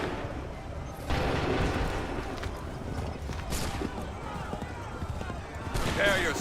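Musket volley fire on a battlefield in Assassin's Creed 3, several loud cracking bursts spread across the scene with shouting voices and battle noise around them.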